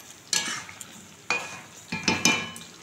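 Spoon stirring ground poppy seed paste into chicken in a pan for malai curry, a few distinct scraping strokes with soft sizzling between them, close and alone.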